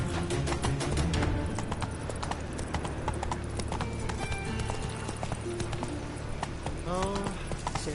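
Roach the horse gallops in The Witcher 3, hooves clip-clopping in a steady, rapid rhythm throughout, layered over game music and ambience with a brief whinny near the end.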